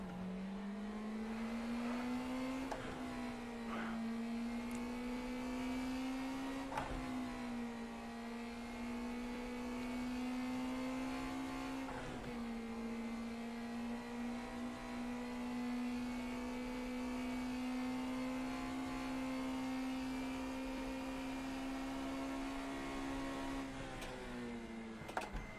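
A Formula Vee race car engine in Automobilista 2 drones steadily for a long stretch, its pitch rising and dipping slightly with brief shifts. The sound is close, continuous and fairly quiet, with no talking.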